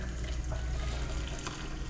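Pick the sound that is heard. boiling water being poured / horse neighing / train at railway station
boiling water being poured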